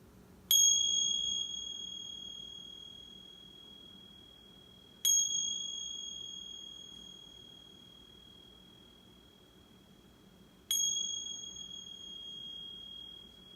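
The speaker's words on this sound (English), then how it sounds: "And receiving the sounds of the bell." A meditation bell is struck three times at an even, unhurried pace, each clear ringing tone slowly fading into quiet before the next strike, with no talking.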